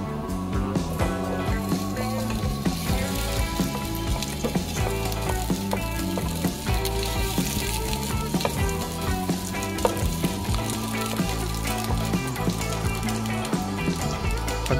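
Onions sautéing in a pan while cooking ginisang tahong, a loud, steady sizzle sustained throughout with occasional stirring clatter close by, no talking.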